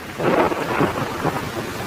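Heavy cartoon rain pours with a rumble of thunder in a stormy scene, a dense, steady wash of noise that swells briefly and stays loud throughout, with no talking.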